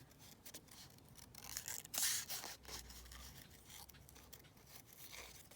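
Scissors snipping through paper for a junk journal, a string of short crisp cuts with rustling and crinkling, close and fairly quiet, one louder snip near the middle.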